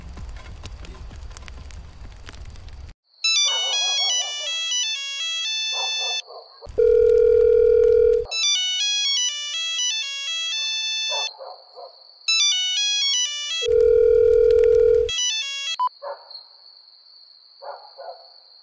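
Telephone ringback and signal tones play in repeated bursts after a number is dialed, with sustained steady tones alternating with brief gaps, no voices present.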